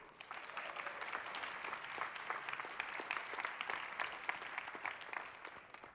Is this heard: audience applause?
yes